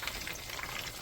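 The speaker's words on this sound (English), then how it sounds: "the onion will start sizzling inside of oil" Chopped onions sizzle in hot oil on the stove for a kazan kebab dish, a brief steady crackling hiss, fairly faint and with no talking.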